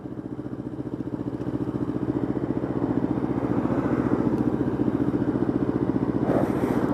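A Kawasaki Ninja 300 motorcycle engine running close by with a steady, rapid pulsing putter that swells slightly louder after the first second and holds, a brief higher rasp near the end.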